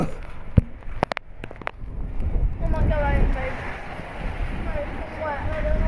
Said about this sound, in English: This wind is bad.